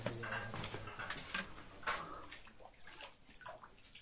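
Water pours from a tap and splashes into a container, a busy irregular gurgling and sloshing with faint clinks, fairly quiet and close.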